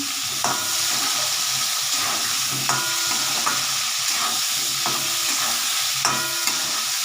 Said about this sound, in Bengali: আলুটা ভাজা হচ্ছে আমার পেঁয়াজটাও ভাজা হচ্ছে